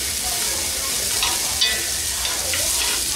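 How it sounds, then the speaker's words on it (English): Vegetables with wine stirred in a pot on a wood stove for a pot roast, a steady close sizzle under scraping stir strokes with no talking. "Stir these bitches around."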